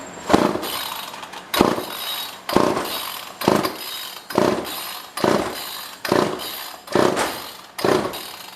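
An old pre-1990s chainsaw is pull-started again and again without catching: eight sharp rasping cord pulls about a second apart, each fading quickly, close and loud, with no engine running between them.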